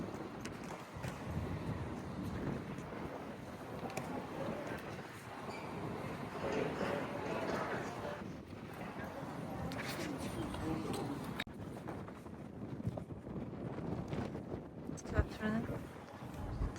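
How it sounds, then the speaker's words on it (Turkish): Strong wind buffets the microphone in a steady, loud roar, with gusty rumbling throughout and faint voices underneath. "Bayağı da rüzgarlı. Çok esiyor."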